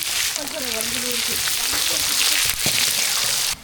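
Dried red chillies fry in hot oil for a tempering, with curry leaves and cumin already in the pan, making a steady, close sizzle. A voice speaks briefly over it near the start.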